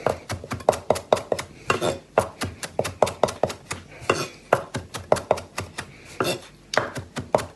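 Fresh farmers' market parsley being chopped finely with a knife on a board, a rapid run of crisp, close knocks in quick irregular bursts with brief pauses between.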